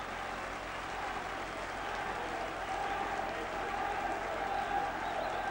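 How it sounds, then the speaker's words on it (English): Large rugby league crowd, mostly Wigan supporters, at a cup final: a continuous broad roar of cheering and applause from a distance, holding steady and swelling slightly toward the end. "Large crowd, mainly Wigan supporters, getting behind the team now."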